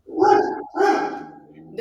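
Two loud barks from a nearby dog, spaced about half a second apart, with a fainter trailing sound after them.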